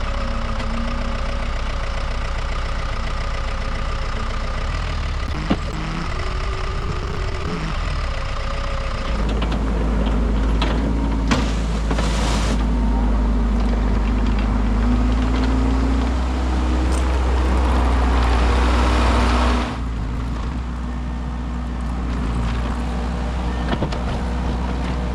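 An auction-bought skid steer's engine runs steadily at a loud, close idle, rising in intensity partway through before settling back down, with occasional clanks.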